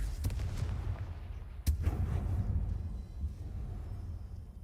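A Confringo blasting spell cast in the Hogwarts Legacy video game, heard as a sharp explosive crack followed by a rumbling burst over a steady low game backdrop.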